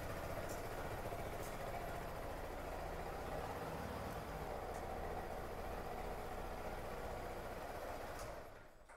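A 2025 Yamaha R15M Carbon Fiber Edition motorcycle idles with a steady, even exhaust drone, no talking, tapering off at the very end.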